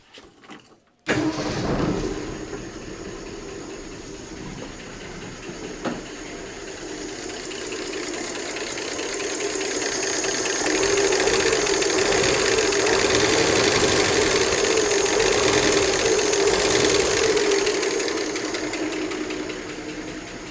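A Volvo 240 engine with loud rockers runs steadily at idle after a brief start, close and loud, with a ticking valvetrain clatter over the engine drone and revs swelling slightly midway, with no talk.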